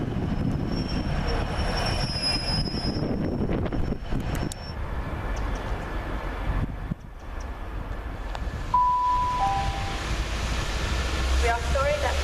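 East Midlands Trains two-coach train at a station platform: continuous rumbling and rolling rail noise with brief high wheel squeals and tonal whines, steady and moderately loud throughout.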